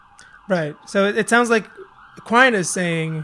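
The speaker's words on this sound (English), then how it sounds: "excuse the siren if you can hear it." A distant emergency siren wails steadily in the background in New York City while someone talks over it.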